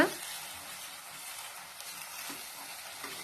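A pumpkin halwa mixture being stirred in a pan, a steady soft scraping and faint sizzle running continuously throughout at moderate, close volume, with no talking.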